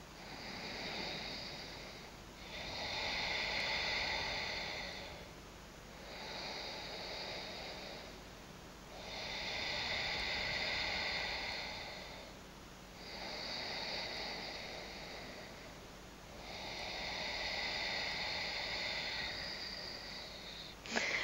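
Slow, deep breaths during an Ashtanga vinyasa yoga session, heard as soft airy inhales and exhales in an even rhythm of roughly six cycles, close and quiet with no talking.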